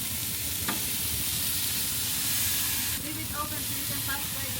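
Locally butchered ribeye steaks sizzle on a barbecue grill, a steady close hiss and crackle that runs without a break, with faint sounds in the background.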